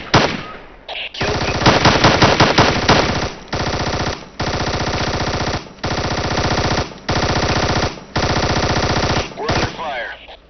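Automatic gunfire in the Ghost Recon video game comes as a loud, close series of sustained machine-gun bursts separated by brief pauses, with a faint voice at the start.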